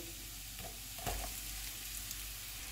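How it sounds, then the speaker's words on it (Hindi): Chopped garlic frying in hot oil over a medium flame, a soft continuous sizzle with a brief louder burst of hiss partway through, close and steady with no talking. "ऑयल गर्म हो गया, इसमें चॉप किया हुआ लहसुन डालेंगे।"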